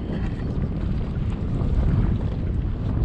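Steady wind buffeting the microphone outdoors, a constant low rumble with faint water sounds underneath, no speech.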